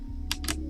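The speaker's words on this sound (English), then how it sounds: "Sorry for the clickety-clackety keyboard." Two quick, crisp clicks ring out from a computer keyboard being typed on while playing a game. A low steady hum runs underneath.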